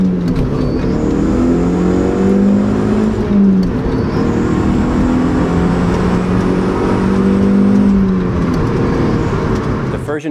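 A first-generation Audi TT with the 1.8-litre turbocharged engine accelerates hard, its engine note climbing steadily and loud throughout, then easing briefly before building again, with a voice speaking over the engine.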